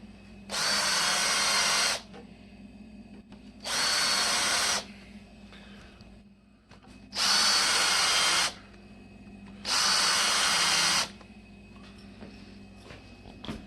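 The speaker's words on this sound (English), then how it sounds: "this is nothing special, just a countersink bit" Power drill with a countersink bit cutting into wood for a kids' bed build, four loud whirring bursts of roughly one to two seconds each, separated by short pauses.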